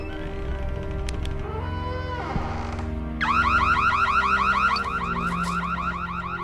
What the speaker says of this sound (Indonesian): Walaupun alarm berbunyi sangat keras